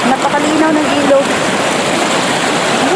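River water near a small farm flows with a loud, steady rushing wash, continuous and close, with faint tonal sounds drifting through the noise.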